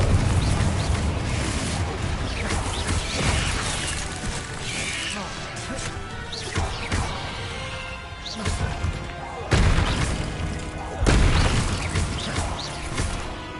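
Confringo fire-blast spell explosions in Hogwarts Legacy during a fight with a giant spider, a string of loud booming impacts and crashes among heavy game effects, with a shouted voice in places.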